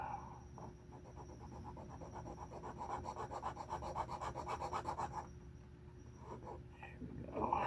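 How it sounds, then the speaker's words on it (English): Needle file rasping against an estate tobacco pipe being repaired, a steady rhythmic scraping of close, quiet strokes that builds over several seconds, pauses, then resumes briefly. "I have a fine needle file and a coarse one, both."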